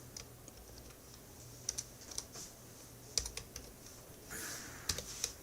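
Quiet typing on a computer keyboard during a web design lesson, with scattered key clicks in short irregular bursts and a brief flurry near the end, heard alone without talk.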